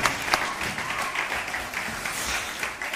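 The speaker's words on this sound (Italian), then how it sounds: "Un applauso alla prossima chiesa" A church congregation at an Easter service claps together, a lively crackle of many hands with a few sharper individual claps standing out, continuous throughout.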